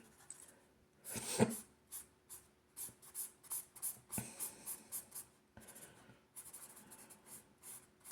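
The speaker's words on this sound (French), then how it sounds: "D'abord je finis de colorier." Coloring on paper with a pencil or marker, a quiet, close series of quick scratchy strokes in uneven bursts, with a louder scrape near the start.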